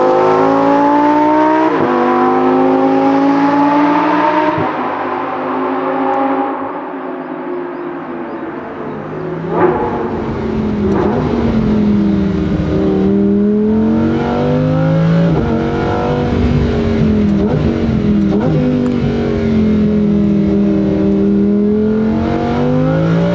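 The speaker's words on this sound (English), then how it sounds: "It just has practically a straight pipe exhaust, some catalytic converters," A Lamborghini Huracan EVO RWD with a near straight-pipe exhaust and catalytic converters roars loudly nearby, its engine note climbing and falling through repeated revs and gear changes over a long continuous stretch.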